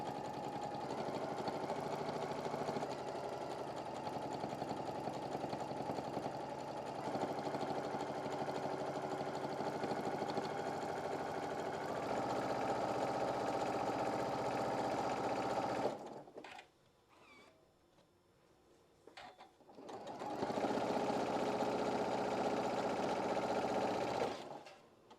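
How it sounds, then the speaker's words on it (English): A sewing machine stitches a one-yard apron in a long, steady, close hum that stops for about four seconds, then resumes at the same pace. "just sewing all the way down"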